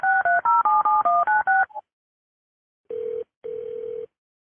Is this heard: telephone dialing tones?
yes